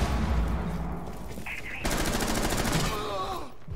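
Gunfire in Rainbow Six, a loud, dense stream of automatic shots heard up close, with a sharp rapid burst midway and some vocal sound at the end.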